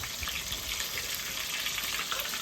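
Fish coated in masala frying on a rustic wood-fired clay stove, a steady, dense sizzle with crackling spatters, close and continuous without pause.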